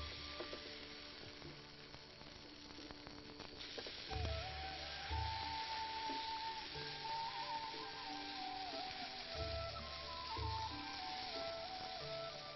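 Tapioca adai batter sizzling and frying steadily on a hot pan, a continuous crackling hiss with faint clinks and background hum throughout.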